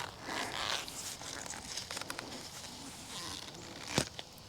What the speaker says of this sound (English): I'm going to use this root slayer shovel in the pot to try to